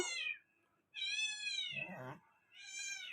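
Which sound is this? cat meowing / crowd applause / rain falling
cat meowing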